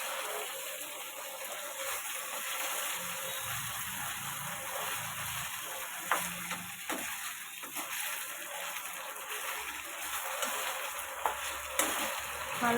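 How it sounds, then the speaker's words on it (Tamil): Idli pieces frying crisp in hot oil, a steady bright sizzle with stirring scrapes and occasional sharper crackles, close and continuous without talk. "இந்த மாதிரி மொறுப்பில் நீங்கள் ஃப்ரை பண்ணி எடுத்து வச்சுக்கோங்க."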